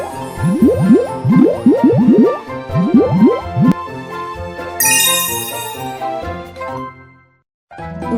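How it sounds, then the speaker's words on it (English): Cartoonish bubble sounds from a Tayo bus repair video game, a quick run of rising bloopy pops followed by a sparkling chime and soft squishy tones, bright and loud, with a short gap of silence near the end. "Make bubbles on the car."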